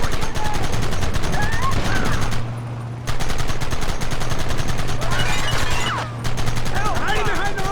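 Rapid bursts of gunfire in the Red Dead Redemption western video game, dense repeated shots with brief pauses between volleys, loud and close, with shouting voices in between.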